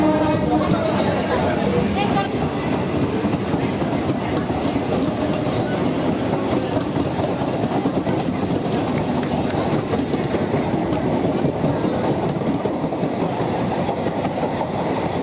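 An air-conditioned local commuter train, the first AC local service in eastern India, runs with a loud continuous rumble and rhythmic wheel clatter throughout, while a voice speaks over it.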